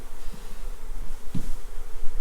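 Honey bees buzzing close by in a honey extraction room, a steady dense hum with a few louder passes near the microphone, no voices.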